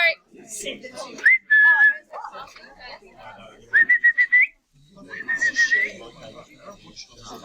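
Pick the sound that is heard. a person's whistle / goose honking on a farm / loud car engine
a person's whistle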